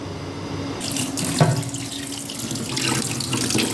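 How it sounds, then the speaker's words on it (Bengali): Tap water runs steadily into a kitchen sink while rohu fish are washed, a close, continuous splashing stream with small knocks of handling. "তাহলে তুমি এই রুই মাছগুলো ভালো করে ধুয়ে দাও আমাকে।"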